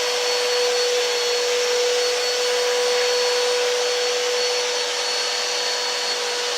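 A vacuum cleaner runs steadily on carpet as a child pushes it around a home, a close, constant whine with a fixed tone, no voices over it.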